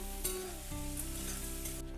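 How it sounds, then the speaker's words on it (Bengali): Chopped garlic, crushed ginger and green chilies frying with onion in a pan for a tangy prawn curry: a quiet, continuous sizzle with a couple of faint stirring taps, no voices. "এবার ভালো করে নাড়াচাড়া করে লাল করে একটু ভেজে নিতে হবে।"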